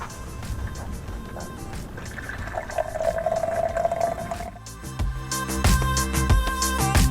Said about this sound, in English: Now we're going to pour a cup.